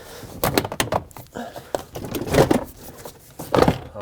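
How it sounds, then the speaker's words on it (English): Push clips popping loose on the inner sliding door panel of a 2008-2020 Dodge Grand Caravan, several close plastic snaps and scrapes as the trim is pried, with handling rustle between. "There's one more push clip on this side that needs to pop."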